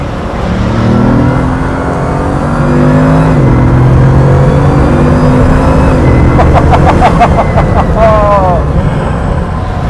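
A Bugatti Veyron accelerating hard, its engine roaring loud and close with rising revs and a quick gear change near the end, while someone talks over it.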